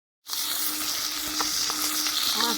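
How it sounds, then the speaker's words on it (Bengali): Koi fish seasoned with turmeric and salt drops into hot oil in a kadai, bursting into a loud, continuous sizzle that holds steady with small crackles and pops. "এখন তেলটা গরম হয়ে গেছে, এখন আমি মাছটা ছেড়ে দিচ্ছি।"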